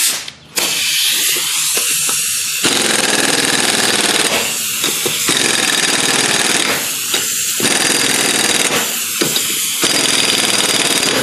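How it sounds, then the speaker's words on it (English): A pneumatic impact wrench retorques the lug nuts on a Honda Civic after a front wheel bearing replacement, giving loud, harsh rattling bursts close by, several in a row with short pauses between them. "Now what we'll do is we'll just quick retorque our lug nuts."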